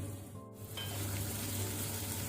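Rice sevai cooking in a covered pan, a steady close sizzle and hiss that swells slightly after a brief dip, no talk.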